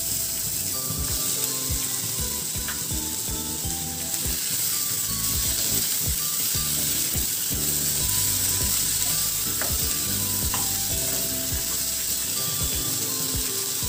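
Tomatoes and garlic frying in a pan give a steady, close sizzle that runs the whole time, with quick scraping and clicking from stirring scattered through it.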